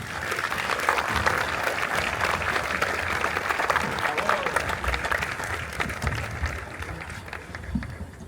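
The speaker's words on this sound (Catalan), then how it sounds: "un fort aplaudiment per ella" Crowd applause at an outdoor summer night concert greeting the singer before the opening ceremony, a dense, sustained wash of clapping for over eight seconds with some murmuring mixed in.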